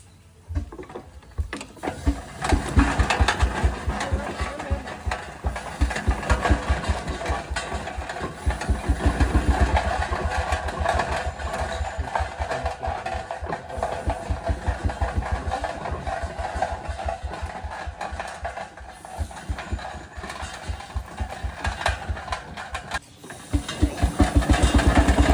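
A half-scale Advance steam traction engine running while churning ice cream, giving a close, loud, rapid steady chuffing beat that continues throughout, briefly dropping out near the end before resuming.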